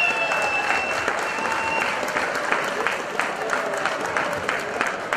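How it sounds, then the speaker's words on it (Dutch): A carnival crowd in Bredene, Flanders, applauding loudly and continuously, dense hall-filling clapping with crowd noise underneath. "geef jullie zelf een fantastisch applaus"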